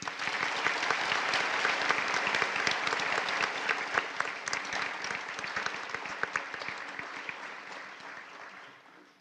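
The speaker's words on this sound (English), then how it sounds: "Please join me in giving Paula and Stan A heartfelt round of applause" A nursing pinning ceremony audience gives a sustained round of applause for Paula and Stan, dense steady clapping filling the room and tapering slightly toward the end.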